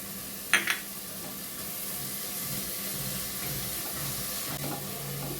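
Spice paste of tomato, ginger and garlic frying in a pan, a steady even sizzle throughout with a couple of brief clinks near the start.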